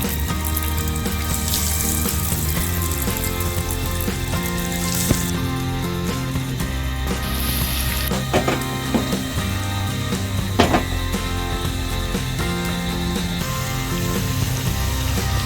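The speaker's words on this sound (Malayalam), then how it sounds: "വെളിച്ചെണ്ണ ചൂടായിട്ടുണ്ട്. നമുക്ക് ഇതിലേക്ക് ഇതിട്ട് കൊടുക്കാം." Steady, dense sizzling and crackling of banana snacks frying in hot coconut oil, continuous and fairly loud throughout, with a few sharper pops.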